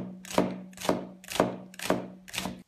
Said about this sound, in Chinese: 接下来切一些葱